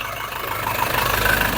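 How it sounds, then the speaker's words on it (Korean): Engine of a 4WD SsangYong Rexton Sports Khan pickup idling with the hood open: a steady, even mid-low drone with a smooth, unbroken rhythm, close and fairly loud, with no talk. "마지막으로 제일 중요한 엔진 사운드 체크하고 영상 마무리할게요"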